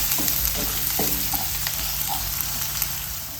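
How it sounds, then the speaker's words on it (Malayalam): Chopped onion with curry leaves sautéing in a hot pan, a steady soft sizzle with a few scraping stirs of a spoon, close and alone without talk. "ഇനി ഇത് 1 സവാള അരിഞ്ഞതേ അത് ഇട്ട് കൊടുക്കും. ഒന്ന് ചെറുതായിട്ടൊന്ന് വഴറ്റിയെടുക്കാം."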